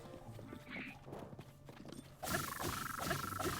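In Zelda: Tears of the Kingdom, a horse's hooves clop in a steady rhythm at moderate level, and then a louder, denser rush of hoofbeats and movement swells up.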